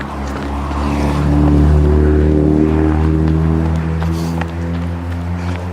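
A loud, steady Porsche performance car engine roars at sustained revs, a low harmonic drone that swells slightly near the middle, with faint vehicle noise mixed in.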